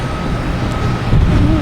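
Airliner rolling for takeoff at Boston Logan Airport, a loud continuous engine roar with a heavy low rumble, steady and close, briefly swelling toward the end.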